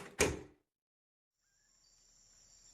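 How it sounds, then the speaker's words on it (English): A door seals shut with a single short, sharp thud, followed by near silence and a faint high hum. "The door sealed behind her as she left."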